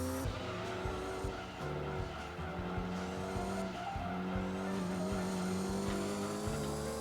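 Race car lapping the Seattle Circuit in Gran Turismo during a 100-mile endurance race, engine droning steadily throughout with shifting pitch, tire squeal and skidding layered in, loud and continuous.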